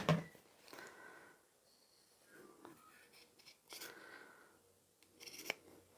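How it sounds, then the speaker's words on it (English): Scissors trimming the sewn, curved corners of a fabric bag, giving several soft close snips and rasping cuts spaced apart in a quiet room. "So we'll just cut close to the curve."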